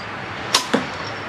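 Two quick sharp cracks sound in close succession as an arrow leaves a Bowtech Invasion CPX compound bow and strikes its target, a crisp, close release followed by a dull impact over quiet background noise.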